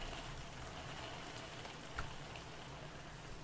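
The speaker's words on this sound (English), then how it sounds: "that's quite realistic rainfall, I believe" Rainfall in the indie horror game Burglary, a soft continuous hiss of drops pattering on surfaces, quiet and even throughout with a slight thump near the middle, no talk.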